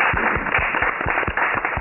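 A theatre audience applauds after a play, a dense, loud burst of clapping with sharp individual claps standing out over the steady roar, continuing throughout the short stretch.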